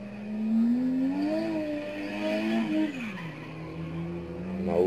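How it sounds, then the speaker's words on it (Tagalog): A car spins around with sustained tire skidding and squealing over a steady engine drone, loud and continuous, with smoke building as it circles. "Habang umiikot yung kotse."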